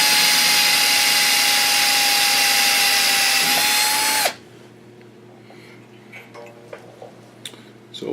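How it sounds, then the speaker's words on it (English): An air drill bores a rivet hole in a Piper Supercub aircraft panel, giving a loud, high steady whine for about four seconds before cutting off into quiet handling clicks. "So there's one drilled."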